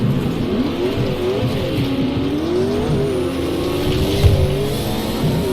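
Race car engine in a racing video game, a steady loud droning whine with rising and falling pitch as it accelerates and corners, with brief tire squeal, continuous throughout with no talk.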